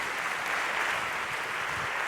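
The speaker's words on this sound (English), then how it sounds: "you can clap your hands" Steady applause fills the hall at the EUCYS 2014 awards ceremony, an even wash of many hands clapping at moderate volume from a seated audience, with no voices over it.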